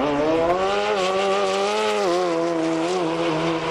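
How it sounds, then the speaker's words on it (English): A TL100R super street bike accelerates hard on its first pass with a little wheel spin, its engine note loud and continuous, rising and dipping briefly before climbing again, with no misfire and no voices. "First pass, little bit of wheel spin, but no misfire, so we're very happy having cured the problem."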